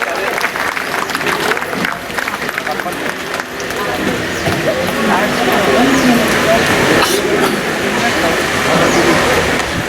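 A crowd claps loudly and steadily to welcome revered elders onto the stage at a religious ceremony at Omkar Ashram, Soundatti. The applause is dense and sustained, with crowd murmur mixed in throughout.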